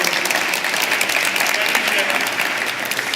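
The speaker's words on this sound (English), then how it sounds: "So big round of applause to him." Conference audience applause during a talk on Liferay Portal frontend workflows, a dense, sustained wash of clapping from a large crowd, loud and even throughout.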